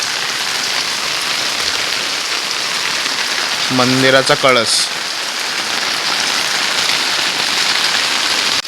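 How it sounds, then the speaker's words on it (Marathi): Steady, dense rainfall hisses loudly throughout on a village path, with a brief spoken phrase from a nearby voice partway through. "पाऊस पडतोय आणि ही अशी वाट"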